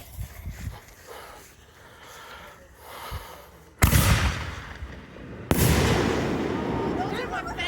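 Fireworks lit outdoors erupt in two sudden loud bursts followed by sustained crackling and hissing, close and strong after a quieter lead-in.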